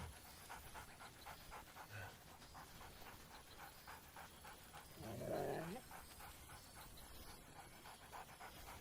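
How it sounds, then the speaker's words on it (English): Scratch the dog in Baldur's Gate 3 gives a single short, cheerful bark midway, standing out over a steady hissing and panting game ambience. "barks merrily in something like agreement"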